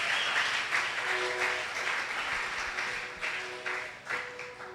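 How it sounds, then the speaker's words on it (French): A church congregation claps together in sustained applause, with swelling bursts and some voices raised in acclamation, heard from within the room at moderate level. "Est-ce qu'on peut acclamer le Seigneur?"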